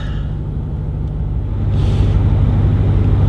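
Land Rover with raised suspension easing into floodwater: a low, steady engine rumble that swells slightly partway through, with a soft wash of water noise rising alongside it, close and without speech.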